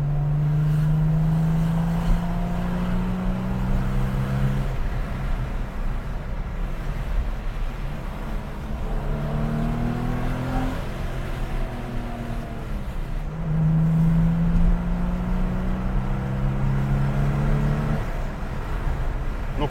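An air-cooled 3-litre naturally aspirated flat-six in a Porsche 993 drones steadily while driving, its pitch climbing through gears in repeated rising sweeps and dropping at shifts, heard from inside the car.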